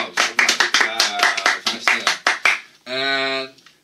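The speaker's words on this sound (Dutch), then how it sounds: "Ja, applaus" A small group claps in fast, uneven bursts, close and loud, mixed with excited voices, ending with a held sung or cheering tone.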